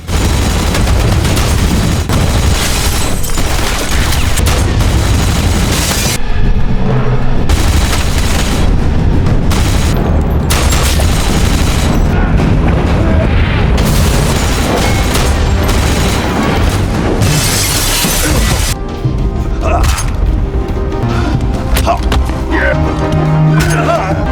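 A fierce gun battle between retired American and Russian special forces soldiers in an action film, with loud, continuous bursts of gunfire and booming blasts under a dense, heavy soundtrack.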